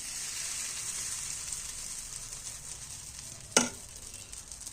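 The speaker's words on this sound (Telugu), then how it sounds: "ఒక గరిట పిండి అయితే వేసుకున్నాం దీన్ని అయితే చాలా సల్పగా చేసుకుంటున్నాం" Dosa batter for an egg dosa spreads thin across a hot pan, giving a continuous sizzle that fades slightly, broken by one sharp scrape or clink of the ladle, with no talking.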